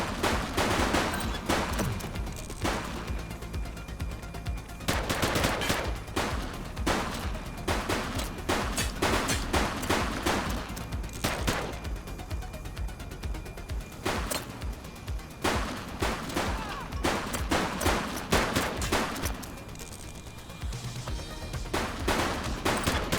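Gunfire in the police video game The Precinct, with repeated bursts of loud shots and rapid volleys spread over the whole stretch, broken by brief gaps and without speech.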